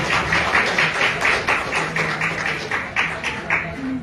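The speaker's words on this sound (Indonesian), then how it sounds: "Tepuk tangan." An audience at a formal ceremony breaks into steady applause, a dense run of rhythmic hand claps that holds at an even level throughout.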